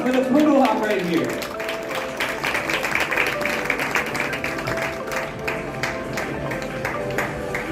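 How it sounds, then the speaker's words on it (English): Evening event audience applauds during a group photo, with steady clapping throughout, a voice briefly heard at the start and sharper individual claps scattered across. "Let's give a round of applause for the photo op right here."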